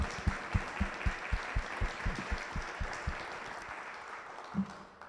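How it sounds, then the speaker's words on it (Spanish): An audience at a Paraguayan theatre discussion event claps steadily and fairly quietly, a rhythmic patter of hands that thins out and fades near the end. "un gran aplauso, por favor, para todos ustedes"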